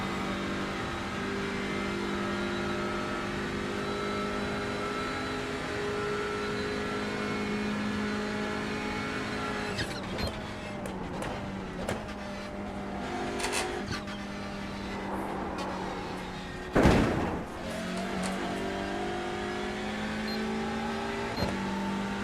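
An LMP3 race car engine droning steadily at Daytona, then rising and shifting with revving changes and a sharp loud burst near the end, heard from close by.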